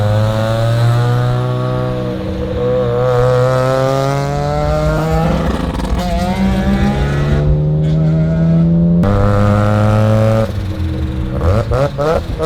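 Mazda RX7 rotary engine fitted with rolling anti-lag, running loud and close with a steady harmonic drone, rising and falling revs, and sharp crackling misfire pops near the end.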